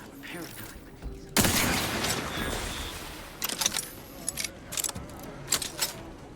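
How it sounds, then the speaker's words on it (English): A gunshot rings out in the video game Outer Worlds 2, an abrupt loud burst with a noisy tail, followed by a few scattered sharp clicks and clatters. "They hear a gunshot, see one of their friends die"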